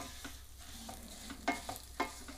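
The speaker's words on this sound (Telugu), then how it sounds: "ఇప్పుడు ఇదంతా బాగా ఫ్రై చేసుకోవాలి," Vermicelli fries quietly in a pan until golden for coconut milk payasam, a soft steady sizzle broken by a few sharp clicks of stirring.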